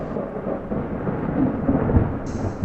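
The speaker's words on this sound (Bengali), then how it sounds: "আকাশে মেঘের গর্জন শুনতে পেলাম" Thunder rumbles steadily and broadly through a cartoon story's soundtrack, a continuous low roll with rain-like hiss and no voices.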